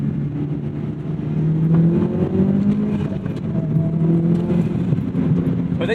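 A Maserati MC20 sports car travels through canyon roads, its engine holding a steady droning note that rises and falls gently as it drives, with loud continuous road and wind noise.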